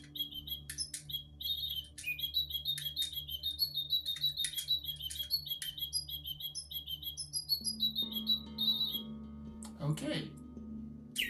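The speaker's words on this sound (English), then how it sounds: "This is a nice bird." A pet bird gives rapid, high chirps and short squawks in quick clustered bursts, close and fairly loud over a low electrical hum, ending with a brief clatter of handling noise.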